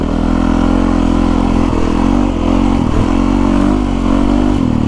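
A Yamaha YZ450FX 450cc dirt bike ridden on a trail, its loud close engine droning steadily with small revs and throttle changes throughout, no talk.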